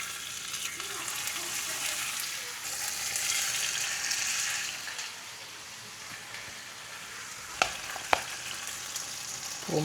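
Food frying in a very hot metal pan, a steady broadband sizzle heard close and alone, easing slightly midway, with two short sharp clicks near the end.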